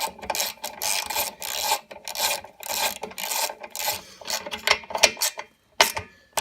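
Bolts being tightened on the starter pulley cover of a single-cylinder Rotax engine, close-up bursts of ratcheting and scraping metal in uneven strokes with short pauses, no talking.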